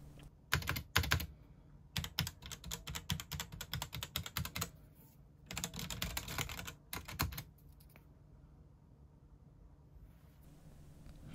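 Bursts of rapid keyboard typing on an N-Go ZX Spectrum Next clone computer, clicky keystrokes in quick runs separated by short pauses, close and fairly loud, with no talking.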